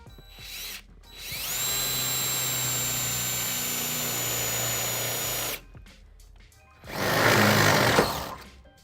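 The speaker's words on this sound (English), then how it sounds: "now I'll be using 3/8 drill bit to drill a hole into the rear frame of the vehicle." A power drill fitted with a 3/8 bit bores into the rear frame of a 2013 Ford Edge, whining steadily for about four seconds close by, then a short second burst of drilling after a brief pause.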